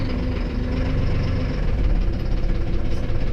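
A cold tractor engine idles with a steady, loud, low rumble and a rough, knocking undertone that runs without a break. There is no talking.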